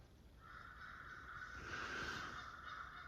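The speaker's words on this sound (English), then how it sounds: "the crows are pissed that I'm here" Crows cawing near a gravel bike trail in a forest, a hoarse, sustained call rising and falling over steady outdoor background noise, fairly faint and with no voices.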